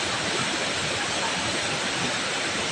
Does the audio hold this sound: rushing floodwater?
yes